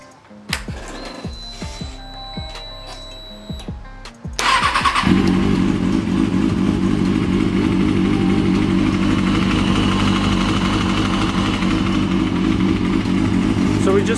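A 2003 Kawasaki ZX6R 636 motorcycle engine starts after a few seconds of clinking and handling noises, then settles into a loud, steady running rumble close by, after a coolant refill.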